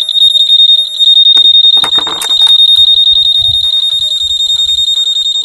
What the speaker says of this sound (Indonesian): Tuh, dia bunyinya alarmnya di sini.